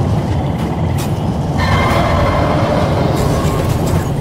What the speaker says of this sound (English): Train slowing.